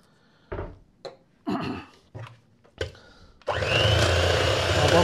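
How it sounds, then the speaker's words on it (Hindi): An electric mixer whipping a no-bake lotus dessert mixture with vanilla essence starts up after a few knocks and clatters, then runs steadily with a loud, continuous whir. "अब हम इसको अच्छी तरह मिक्स करेंगे तो ये फ्लफी हो जाएगा, जब फ्लफी हो जाएगा तो हम इसको बंद कर देंगे"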